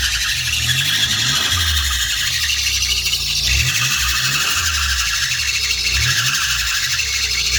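A Nissan R32 GTR engine runs just after a cold start, with a steady close idle under a high belt squeal that persists the whole time, no talking.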